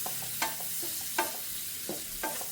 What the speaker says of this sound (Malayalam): ഇത് നല്ലതുപോലെ ഒന്ന് മിക്സ് ചെയ്തിട്ടെടുക്കാം